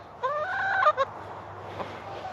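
Chickens in a chicken tractor outdoors give a short run of clucks and a rising cackling call up close, then fall quiet over a low background hum.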